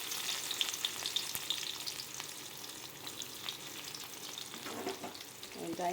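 Onion frying with two dried red chillies in a pan for an aubergine stir-fry, a steady close crackling sizzle with bright spits and a few stirring scrapes near the end, no voices.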